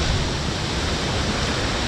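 The Devkund waterfall in Mayurbhanj roars as a steady, dense rush of falling water, loud and continuous with no voices over it.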